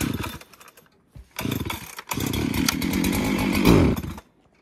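A chainsaw trims slab wood off a log during logging. The saw revs in short bursts, cuts out briefly, then roars in a long, steady close-up cut before stopping.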